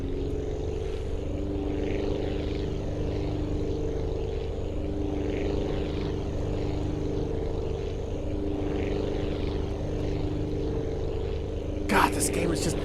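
Propeller aircraft engine at full throttle in the game Aviassembly, a steady loud droning hum holding for many seconds with a faint whine on top and a brief clatter near the end.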